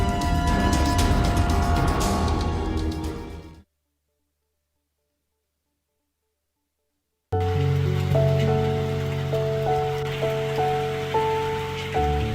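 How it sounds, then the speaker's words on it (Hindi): Steady rain falls during unseasonal storms with strong winds and hail around Bhopal in Madhya Pradesh, a dense continuous patter that cuts to silence midway and then returns with faint tonal sounds mixed in. "इन जिलों में तेज आंधी के साथ बारिश भी हो रही है।"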